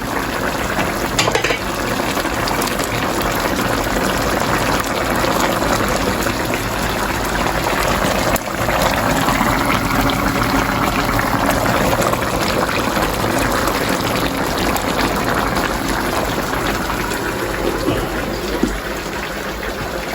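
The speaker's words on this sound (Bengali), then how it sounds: "এখন আমি মাছ দিয়ে দিচ্ছি" Fish, Padma hilsa, going into a hot cooking pot with a little salt, giving a steady loud sizzle and bubbling that runs throughout with small stirring and pouring noises, no talking.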